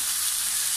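Tomatoes sautéing in a pan, a loud, close, steady sizzle with no break.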